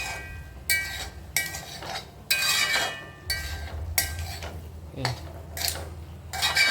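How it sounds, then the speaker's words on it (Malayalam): Garam masala being stirred through a curry in a pan, a spoon knocking and scraping against the metal in irregular clinks and taps, close and fairly loud, with no voice. "നല്ലവണ്ണം ഒന്ന് ഇളക്കി കൊടുക്കാം."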